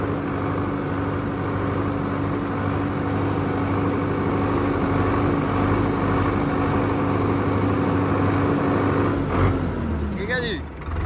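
A Preet 6049 four-cylinder tractor engine runs in medium gear with a steady, droning mechanical hum that holds constant before briefly shifting near the end, heard close with some background noise.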